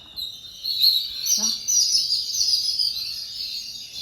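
Sparrows chirp continuously in rapid, high twittering bursts, close by and fairly loud, with no speech.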